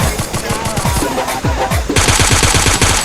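Rapid automatic gunfire from a weapon in the video game Free Fire, loud, dense bursts of quick shots in a fast rhythm, continuing without a break.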